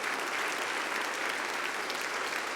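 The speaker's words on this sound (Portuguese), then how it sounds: "A Ele uma linda salva de palmas" A church congregation gives a round of applause to Jesus during a Portuguese-language sermon, a dense, continuous roar of clapping from many people filling the hall.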